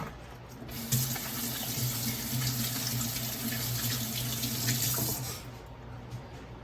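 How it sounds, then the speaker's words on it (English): Hands being washed under a running kitchen faucet: a steady, close rush of water pours for about four seconds, then shuts off, with no talking. "let me wash my hands."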